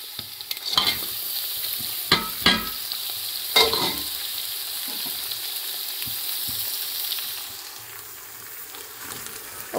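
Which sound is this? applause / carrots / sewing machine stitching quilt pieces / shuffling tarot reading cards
carrots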